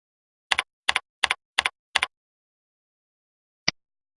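Brief burst of typing on a computer keyboard entering an equipment code: five quick double-clicked keystrokes in a steady rhythm, then a pause and one final sharp keypress, close and clean with no talk.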